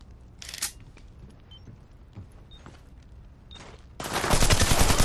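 A grenade explosion in the Splinter Cell Blacklist multiplayer game: faint clicks and quiet game noise, then a sudden loud, broad roaring blast that holds at full strength through the end.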